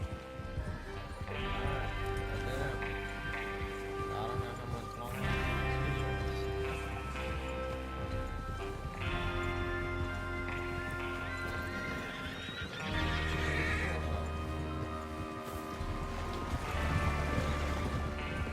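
Horses in the Red Dead Redemption 2 video game neigh and whinny repeatedly over steady clip-clopping hooves, with a musical score underneath and no talk.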